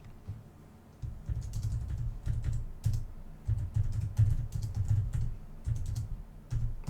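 Close, steady typing on a computer keyboard, with rapid clustered keystrokes and short pauses between bursts, with no voices.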